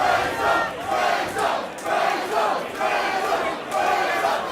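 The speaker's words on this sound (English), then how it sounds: "And now the crowd start to voice their support for Matt Caspell." Crowd at a white collar boxing match in London shouting and chanting support for the fighters, loud rhythmic waves of massed voices rising and falling in repeated surges.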